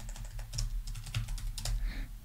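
Someone types a question on a computer keyboard, a steady run of quick, close key clicks with a few louder taps, no voices.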